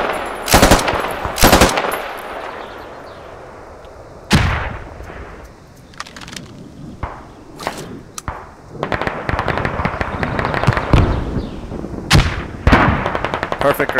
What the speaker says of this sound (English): He's digging up a machine gun.